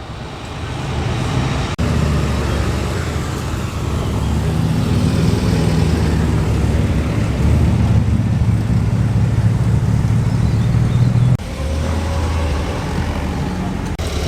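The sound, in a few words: classic cars driving past at a car show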